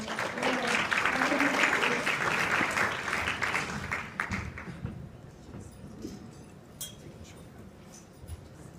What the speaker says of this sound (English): we just want to give a round of applause for Techlicious